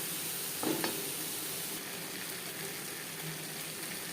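Onions and tomatoes fry with salt and turmeric under a soft, even sizzling hiss, broken early by a single brief utensil knock.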